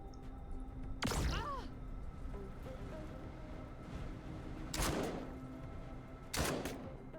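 Gunshots in the sci-fi post-apocalyptic video game Encased, three sharp separate blasts spaced a few seconds apart over quiet game ambience.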